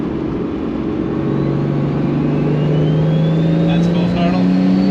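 A Toyota Supra with Bosch Motorsport 2000cc injectors revs at full throttle, its engine note climbing steadily and staying loud and close throughout, with a voice speaking over it.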